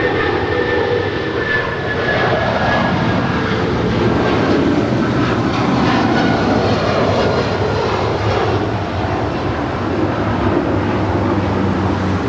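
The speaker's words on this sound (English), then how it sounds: "This is United Airlines 1772 departing to Denver. It's 757-300." A United Airlines Boeing 757-300 jet departing LAX on runway 25 right, heard as a loud, continuous engine roar that stays strong throughout, with a thin high whine and no voices.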